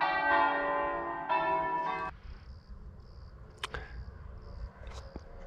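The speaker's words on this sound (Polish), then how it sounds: "pięknie te dzwony dzwonią w takich małych kościółkach" Church bell of a small village church in Italy ringing loudly with rich sustained tones for about two seconds, then fading into a quiet outdoor evening with insect chirps and occasional faint knocks.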